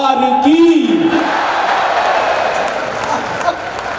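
Audience applause at a Hindi comic poetry gathering (kavi sammelan): a voice sings briefly, then a broad, steady wash of clapping from the crowd follows and holds without a break.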